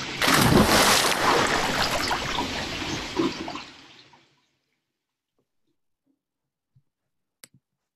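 Rushing river water swelling loudly as someone is swallowed by it: a dense, close roar of churning water that fades away after about four seconds into silence, followed by a few faint drips or clicks.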